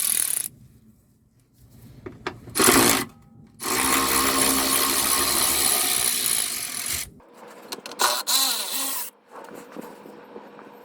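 Ratchet removing 10mm bolts from a plastic under cover on a 2015 Toyota Sienna AWD 3.5 V6, close, loud bursts of rapid ratchet clicking separated by short pauses and small metallic clinks.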